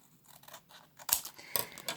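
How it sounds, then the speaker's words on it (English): Scissors snip through craft paper during Christmas crafting, with a few quiet cuts followed by two sharper, louder snips close to the microphone. "And then I'm just gonna use my scissors"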